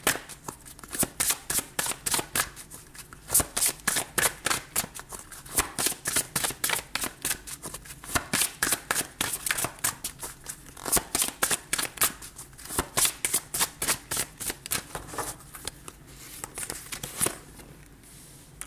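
Tarot cards are shuffled steadily, close by, as a long run of quick riffling and slapping flicks in a rapid, even rhythm, with no talk over them.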